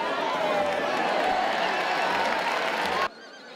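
Horses at a crowded horse festival in A Estrada, with a steady, dense wash of crowd noise and animal sounds, including a drawn-out whinny-like tone, that cuts off abruptly near the end.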